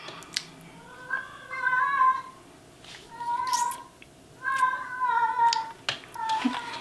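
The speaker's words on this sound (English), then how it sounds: "that's my cat. He likes to howl at the moon sometimes." A cat lets out several long, wavering howls in a row, separated by short pauses, fairly close and moderately loud.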